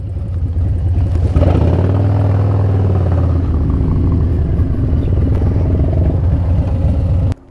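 Motorcycle engine rumbling close by as the bike is moved into place and parked, a loud steady idle with a brief rev swell early on before cutting off at the end.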